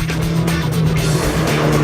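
A Mitsubishi Lancer Evolution street car is pushed hard through a turn on a race track, its engine droning loud and steady from inside the cabin with a sustained high-revving tone and faint tire noise.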